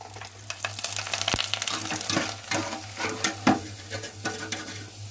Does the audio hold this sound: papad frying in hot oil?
yes